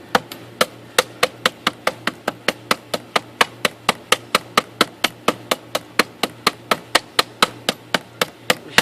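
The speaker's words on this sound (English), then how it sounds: "Chop a notch real quick" A large tactical knife chops a notch into wood with a steady series of about thirty sharp, evenly spaced, close-up chopping strikes, nothing else heard.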